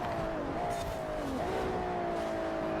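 A drift car's engine in Forza Horizon 4 holds a steady high drone, its pitch dipping briefly and then climbing again as it runs at speed, loud and continuous with no talk over it.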